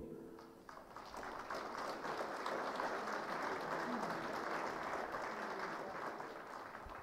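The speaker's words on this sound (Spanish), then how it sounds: "les invitamos un fuerte voto de aplausos" The audience at a university ceremony proclaiming newly elected authorities breaks into applause, a fairly distant, even roar of clapping that builds after a brief start and holds steady before easing slightly.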